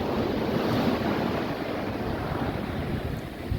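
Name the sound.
ocean waves breaking on the beach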